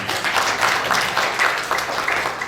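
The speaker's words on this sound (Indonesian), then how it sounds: "Tepuk tangan ya." A church congregation at an Ascension Day service applauds together, a steady, fairly loud patter of many hands clapping in quick bursts for a couple of seconds.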